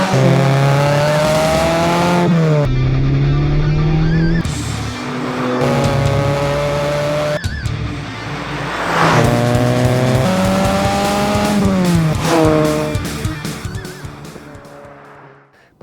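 A classic Ford Fiesta XR2 is driven hard close to the microphone. The engine rises in pitch through each gear, drops at the shifts with short pauses, and revs loudly again on and off the throttle for about fifteen seconds.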